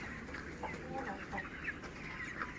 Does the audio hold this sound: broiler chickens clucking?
yes